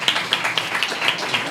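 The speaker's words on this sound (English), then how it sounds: "Give a huge applause to him as well." Brief audience applause for a guest at a Crypto Mondays meetup, a light patter of scattered hand claps from a small crowd.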